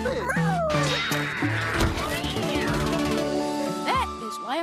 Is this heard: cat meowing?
yes